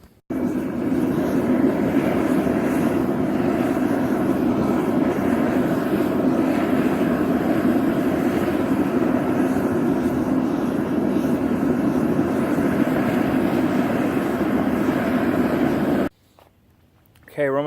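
A gas torch roars steadily while firing a homemade foundry, a loud, continuous broadband rush that holds for about sixteen seconds before cutting out abruptly.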